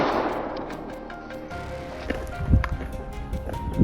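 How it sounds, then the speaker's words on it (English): Gunfire aimed at a wild boar during a hog hunt on a Texas farm, heard as a few sharp, loud cracks and thumps over rustling undergrowth and steady outdoor noise. "Our team opened fire"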